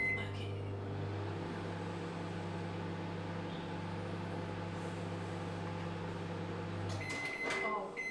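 A microwave oven running while cooking a mug cake, a steady low hum that stops abruptly near the end, followed by a few short clicks.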